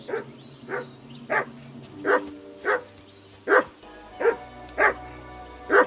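Steady, regularly spaced barking from a dog in the medieval game Kingdom Come: Deliverance II, about nine close, loud barks over six seconds against low background ambience.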